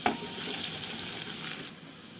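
Crushed garlic fries in about a quarter cup of oil for Egyptian fatta, producing a close, continuous crackling sizzle that opens with a small clink and holds steady throughout.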